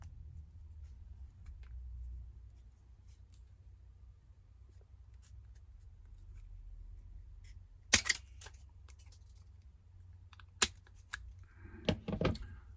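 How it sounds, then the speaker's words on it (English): A few sharp metallic snips from side cutters cutting through the clip of a lobster claw swivel snap hook, isolated crisp clicks over quiet low background hum, close up. "I cut through the clip just before the hook"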